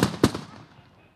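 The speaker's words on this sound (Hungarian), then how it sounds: "A töltési fogások után egyszerre kell minden katonának leadni a lövését." Reenactment soldiers fire a volley of muskets with blank powder charges at a staged battle, heard as two sharp, loud blasts in quick succession followed by a fading echo.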